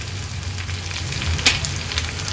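Potato pieces and peanuts fry in hot oil with a steady, moderate sizzle and crackle, close by, with a brief clatter of stirring partway through.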